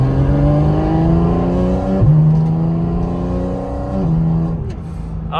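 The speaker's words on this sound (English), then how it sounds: "I think we're gonna get some intake noise though." Porsche 718 GT4 RS, parked with the engine running, gives a loud, steady intake drone with rising and falling pitch sweeps as the revs climb and settle, close up and continuous.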